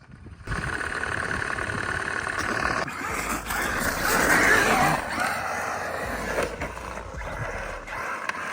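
An Arrma Mojave 4s RC car with a bent rear drive shaft runs close by, its motor whining and rasping steadily for several seconds with a rough, grinding edge that swells and fades.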